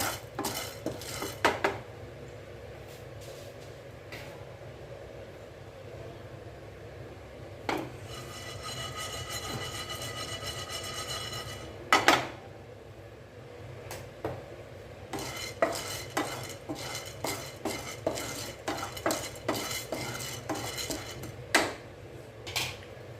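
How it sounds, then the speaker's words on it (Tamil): Chana dal is dry-roasted in a pan and stirred, rattling and scraping against the metal in busy bursts with clinking utensil hits and a faint sizzle, close up and without talking. "இப்போ கடலைப்பருப்பு, தீயை விடாமல் நல்லா வாசம் வர வரைக்கும் வறுத்து போட்டு"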